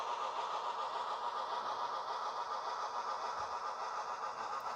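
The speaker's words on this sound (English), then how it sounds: "The TCS Wow Sound decoders are known for very nice steam engine sound" A faint, steady mechanical chuffing hum from an HO-scale model steam locomotive's TCS WOW Sound decoder drones on evenly throughout, like a small engine running at a constant pace with no voices.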